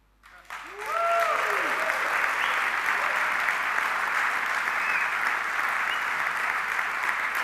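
Applause breaks out from a conference audience at a live ARCHICAD 20 software premiere, quickly swelling after a quiet start into a steady, full roar of clapping with a few cheers, lasting several seconds.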